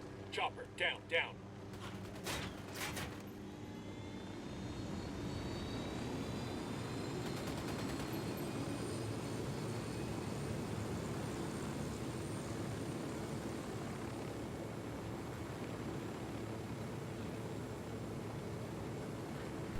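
In the video game Ghost Recon Wildlands, a helicopter flies with a steady, loud rotor and engine drone that holds continuously after a few brief clicks at the start.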